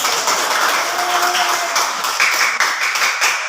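A class of students clapping hands together, a steady dense patter of many claps filling the room, close and continuous with no talk over it.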